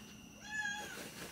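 A house cat gives a single faint, drawn-out meow indoors at night against a quiet background.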